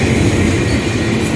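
Freight train cars roll past at very close range, a loud continuous rumble with rhythmic wheel clatter and a metallic hiss that stays steady throughout.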